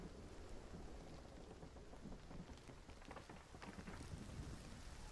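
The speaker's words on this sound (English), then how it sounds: "Wait, we got rain?" Steady rain hisses with low rumbling thunder in the Hunt: Showdown video game, a continuous wash of downpour with no voices.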